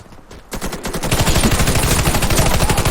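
Sustained machine-gun fire in the Warface first-person shooter, rapid rhythmic bursts starting after a brief quiet moment and then running loud and continuous to the end, with no talking.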